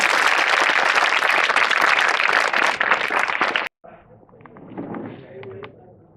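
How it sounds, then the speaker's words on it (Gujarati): Loud, dense applause from an audience at a school ceremony where bicycles are handed to girl students, filling the first three and a half seconds before cutting off abruptly to a quieter room with faint murmuring. "ફરીવાર તાળીઓના જોરદાર ગણગડાટ."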